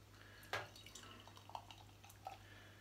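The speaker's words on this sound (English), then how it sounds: "So let's get this poured into a glass and do a bit of a comparison." Hansa Vienna Lager beer is poured into a glass, giving faint, close liquid trickles with a few small splashy accents and drips over quiet room hum, with no speech.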